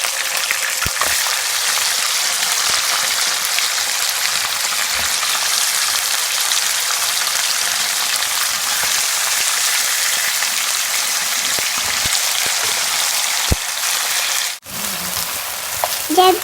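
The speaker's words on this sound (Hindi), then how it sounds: "फिर चिकन को थोड़ा सा भून लें" Chicken frying with garlic in a karahi, a steady loud broadband sizzle crackling continuously throughout, with a brief dip near the end and occasional sharp pops.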